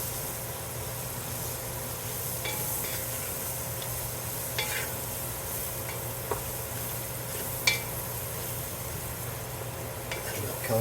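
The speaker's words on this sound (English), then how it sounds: "So we're going to cook all these vegetables down." Chopped onions, celery, jalapenos and garlic cook down in a pot for chicken and sausage gumbo, giving a soft, even sizzle with a few faint clicks and scrapes from stirring.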